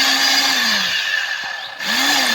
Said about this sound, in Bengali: একটু ভালো করে ব্লেন্ড করে নেব।